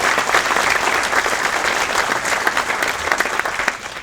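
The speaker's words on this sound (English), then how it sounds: "So I'd like the whole board to get a round of applause," A banquet crowd at a golf hall of fame ceremony gives a board a round of applause, dense and loud continuous clapping that holds steady throughout without any voices.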